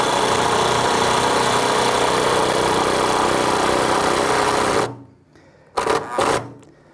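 A power drill driving a wood screw into timber whirs loudly and steadily for about five seconds, then stops, followed by two short bursts of the motor.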